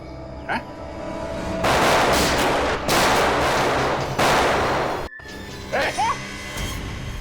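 Loud, sustained bursts of gunfire, three in a row with brief gaps between them, and voices heard before and after.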